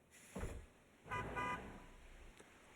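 A car horn honks in the summer-vacation video game Natsu-Mon, a couple of clear blasts with a short gap between them, heard alone against quiet ambient game sound.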